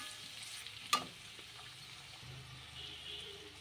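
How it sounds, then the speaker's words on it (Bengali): Spinach and mung dal frying in a pan give a faint, steady sizzle as they are stirred, with one sharp clink of the spoon against the pan early on. "আর ভালোভাবে এটাকে নাড়াচাড়া করে নিচ্ছি"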